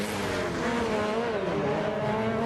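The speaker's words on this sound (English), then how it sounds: "So the 2-litre cars putting their 300 plus horsepower down onto the ground" 2-litre Rallycross Lites race cars with over 300 horsepower at X Games Austin give a continuous, loud engine drone with wavering revs as they race around the track, with no talking.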